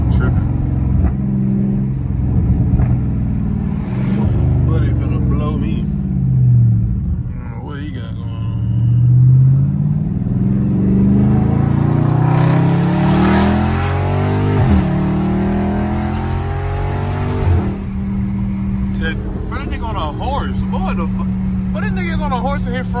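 A straight-piped Dodge Charger Scat Pack driving, its exhaust a loud, deep rumbling roar that rises and falls through revs and gear changes for the whole stretch, heard from inside the car with occasional voices over it.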